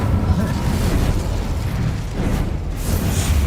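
Incendio fire spell cast in Hogwarts Legacy: a sustained, loud roaring whoosh of flame with rumbling bursts that continues throughout the clip.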